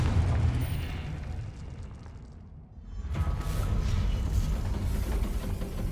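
Confringo fire spell blasts in Hogwarts Legacy during a boss fight in Percival Rackham's Trial, a loud rumbling boom that dips briefly then swells back into a sustained roaring burst.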